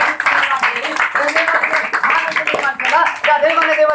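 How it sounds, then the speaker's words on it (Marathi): A church congregation claps hands in thanks to God, a dense run of claps mixed with loud voices talking and calling out over it throughout. "टाळ्या वाजून देवाला धन्यवाद देऊ."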